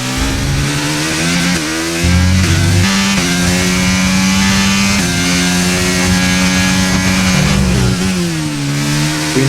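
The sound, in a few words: Formula 1 car engine racing in video game F1 23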